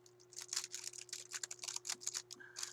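Silver decorative foil-like material crinkled by hand up close, a run of quick, bright, irregular rustling bursts over a faint steady hum.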